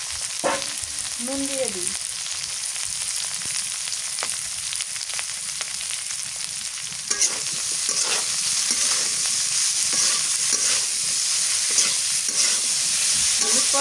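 Bitter gourd and potatoes sizzle steadily in hot oil in a pan while a utensil scrapes and stirs them in irregular strokes, with a brief spoken remark and some background birdsong.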